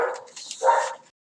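A dog barks twice in quick succession, sharp and fairly loud, close by, followed by silence.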